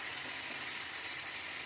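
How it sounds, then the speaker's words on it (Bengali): Hot pan of Bengali egg curry with potatoes hissing softly after water is added, a steady faint sizzle with no talking. "জল দিয়ে দিচ্ছি, আলুটা যতক্ষণ না আমাদের সেদ্ধ হচ্ছে"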